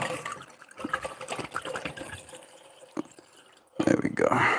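Water from a second bottle pours into another bottle with faint gurgling and trickling, under quiet talk, then a louder burst of splashing pouring toward the end.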